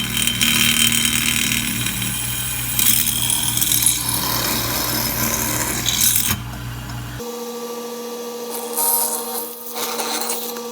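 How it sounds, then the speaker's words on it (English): A power drill bores through a tin can backed by a small piece of wood, a loud grinding whine with rough scraping that runs for several seconds and then cuts off, leaving a quieter hum and faint handling noise. "So I've got a little piece of wood here to back the can a bit as I drill."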